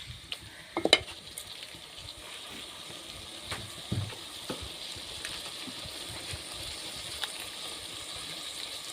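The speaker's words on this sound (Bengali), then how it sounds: "এই যে আমি এখন মাংসটা ভালো করে মশলার সাথে কষিয়ে নিচ্ছি" Meat is fried and stirred with spices in a pot, giving a quiet, steady sizzle punctuated by occasional spoon scrapes and clicks, with no voices.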